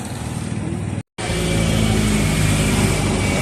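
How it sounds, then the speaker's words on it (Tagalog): Heavy street traffic in Ugong, Valenzuela City, with cars and large trucks passing near a roadside mural painting site, giving a loud continuous engine roar and a brief cut of silence early on. "Talagang daming sasakyan."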